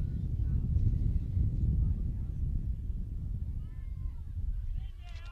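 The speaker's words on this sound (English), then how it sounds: "Well, the windy conditions are popping up heavy here." Heavy low rumbling wind buffets the microphone steadily throughout at an outdoor men's sports match, with faint distant voices breaking through now and then.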